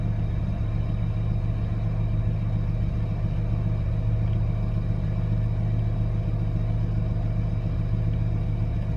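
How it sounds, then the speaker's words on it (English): A Dodge Ram engine idles after a cold start with no oil pressure, a steady close rumble holding level throughout, with a faint whine from the power steering pump running under it. "I can hear my power steering pump whining just very little."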